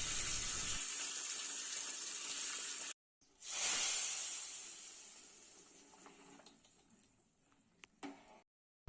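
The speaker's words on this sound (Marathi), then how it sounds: "मीठ घालपाचें आनी तेज्या उपरांत फोडणी मारपाची." Spice tempering hitting hot oil for a Goan dish, a loud sharp hiss that breaks off, then flares into a bright sizzle which fades gradually to quiet crackles before cutting out.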